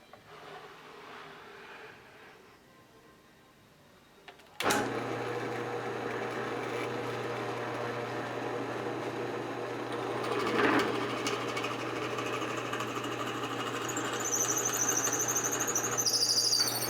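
A drill press enlarging bored holes in wood: after a quiet start the motor kicks in abruptly with a loud steady whine and hum, joined by a rising high squeal of the bit cutting near the end.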